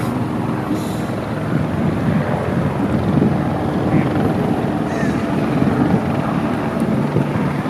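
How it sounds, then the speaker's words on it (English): A low, rumbling helicopter drone hangs in the background, steady and somewhat distant, with wind buffeting the microphone throughout. "Hold on, there's a helicopter."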